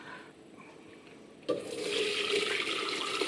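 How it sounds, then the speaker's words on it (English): Pressure-cooked turkey stock pours into a pot, starting suddenly as a loud, steady splashing rush after a quiet moment and continuing close by without pause. "so I'm going to strain it into a pot"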